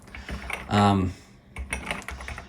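Typing on a stiff retro computer keyboard, an Atari 1200XL, clusters of close, firm key clacks in short bursts, with a brief spoken sound partway through.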